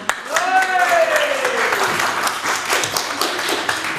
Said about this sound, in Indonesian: Berikan tepuk tangannya dong